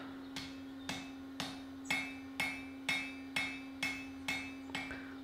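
Hammer blows on a Viking shipwright's axe being forge welded without flux, about ten ringing metallic strikes at a steady pace, close and alone over a constant low hum.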